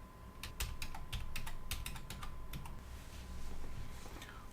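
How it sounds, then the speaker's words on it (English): Rapid clicking keystrokes on a computer keyboard while a root password is entered during a Fedora Linux install, steady and fairly quiet against a low background hum, with no one talking. "you can't see what I'm typing or hear what I'm typing"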